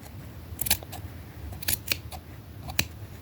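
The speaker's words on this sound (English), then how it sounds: "Okay, so I got the piece cut out." Scissors cut out a fabric piece for a doll's shirt, giving a handful of quiet, crisp snips in irregular pairs against a soft room hiss.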